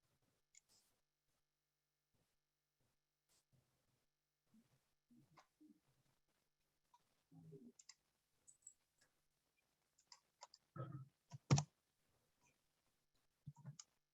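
Sparse, quiet clicks of typing on a computer keyboard during a webinar, irregular taps and short bursts in near silence, including one louder clack.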